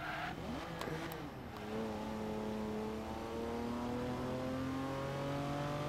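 A Lamborghini SUV engine accelerates in the racing game Forza Horizon 3, its tone rising steadily through a gear change and holding a loud, even drone.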